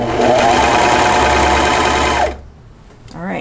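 A Brother Airflow 3000 serger runs steadily while stitching a shirt, a loud continuous mechanical whir for about two seconds before it stops abruptly, leaving quiet handling noise.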